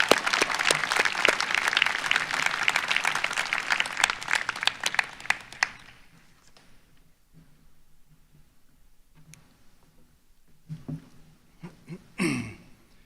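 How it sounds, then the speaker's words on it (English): Applause at a William & Mary university commencement for doctoral degree recipients: loud, crisp clapping from a crowd for about five seconds, then tapering off into quiet room noise with a few stray sounds. "Let's give them a round of applause."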